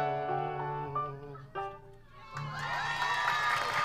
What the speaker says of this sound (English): Another round of applause for Stephen Applegate on the piano